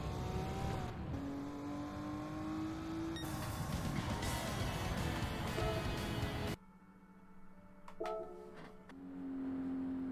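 Race car in Gran Turismo 7 downshifting into first gear on a track, the engine note stepping down through sharp shifts and revs before dropping to a quieter idle-like hum near the end.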